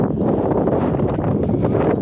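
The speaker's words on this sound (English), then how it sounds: "we're about to hit back into the wind" Steady gusting wind roars across an outdoor microphone at an earthship home, a continuous broadband rumble with no pauses and no voices.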